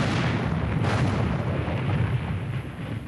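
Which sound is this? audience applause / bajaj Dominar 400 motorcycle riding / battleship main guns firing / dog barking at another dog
battleship main guns firing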